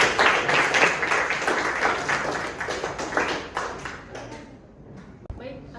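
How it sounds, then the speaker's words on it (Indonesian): Audience applause at a university teaching presentation, a burst of dense clapping from a room of people that gradually thins and fades out. "Beri aplaus lagi."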